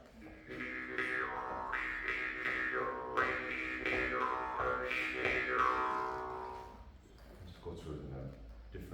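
A deep forged Indian jaw harp twangs with a low drone and shifting, wah-like overtones that swell and fall in rhythm, played close and fairly loud before trailing off near the end.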